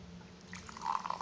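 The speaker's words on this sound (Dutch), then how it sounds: "laten we eens inschenken" Red energy drink, a Simpsons Flaming Moe novelty can, poured into a glass: a soft, faint trickle of liquid that swells into a bubbly, gurgling fill near the end, close and quiet.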